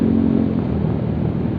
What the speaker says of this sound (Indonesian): kira-kira ginilah suara knalpot Proliner pemakaian selama kurang lebih 7 bulan